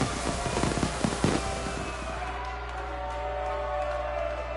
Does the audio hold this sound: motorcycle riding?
no